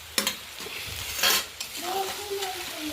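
Fried rice ingredients stirred in a hot pan, with close bursts of scraping and sizzle and a few light metallic clinks of the spatula.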